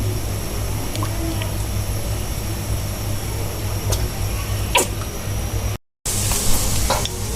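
Mustard oil with spices including cumin and nigella seeds sizzling steadily in a pan for satkora pickle, a close continuous frying hiss with occasional stirring taps, briefly cut off near the end before resuming.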